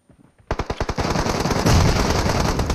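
Automatic gunfire rattles through a PUBG Mobile firefight, loud and close, opening with a few separate shots that turn into a dense sustained burst of rapid fire.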